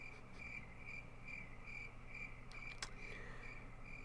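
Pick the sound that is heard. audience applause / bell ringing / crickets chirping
crickets chirping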